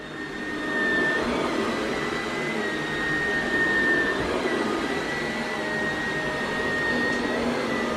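Shark Navigator Lift-Away Professional upright vacuum cleaner running over carpet, a steady loud motor whine with a faint high tone, continuous close-up drone with no talking.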